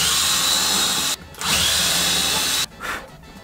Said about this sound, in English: I'm gonna screw and glue this little platform on the big platform